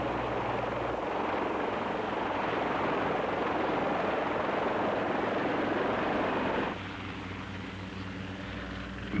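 A helicopter flying above a rocky island, its rotor and engine giving a loud, steady drone that stays constant and then drops to a lower, quieter level near the end.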